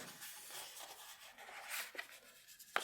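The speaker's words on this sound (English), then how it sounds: "Get my bone folder and just gently press down on that." Bone folder gently pressed and rubbed along a paper valley fold while making a gatefold card with cascading pleats, a soft close scraping rub with a sharper tap near the end, no talking.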